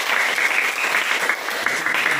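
Students in a classroom clap for their classmates, a short, steady burst of many hands clapping at even loudness, with a faint voice tone underneath.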